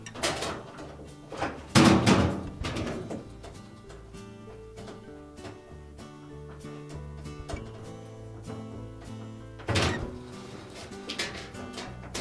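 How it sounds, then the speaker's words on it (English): An old bushing is knocked out of a Whirlpool washer suspension, giving a few sharp, hard knocks spaced far apart over a steady tonal background. "Knock the old bushing out."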